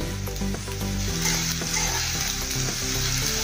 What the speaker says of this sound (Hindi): हमने इसको भून लिया है 5 मिनट मसाले को